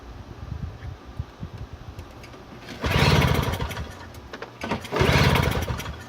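A Toro CCR2000 snowblower's small engine cranks and sputters as it tries to start, with two louder bursts of firing roar between stretches of uneven pull-start chugging.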